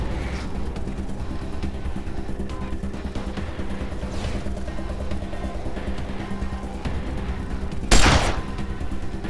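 Scattered gunshots in the Wasteland 2 video game sit low and muffled under a steady background, then one sharp, loud burst stands out near the end.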